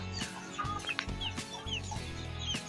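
Chickens cluck in a hot-season poultry yard, a series of close, quiet short clucks and chirps in an irregular rhythm.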